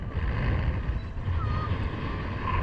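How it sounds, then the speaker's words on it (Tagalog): Strong outdoor wind buffets the microphone in a steady, loud low rumble with a gusty hiss, constant across the whole stretch with no talking. "Lakas kasi ng hangin."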